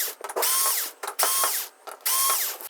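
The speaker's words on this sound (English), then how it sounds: "it does look like these screws are going to be okay for the screw gun." Screw gun backing screws out of a Samsung LH65DME signage TV, three whirring bursts with ratcheting clicks, each lasting about half a second, close and loud.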